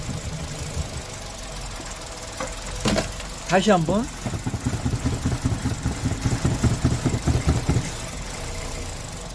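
A car engine idles roughly with an uneven, knocking pulse, and its revs rise and fall. Someone speaks briefly over the close engine noise.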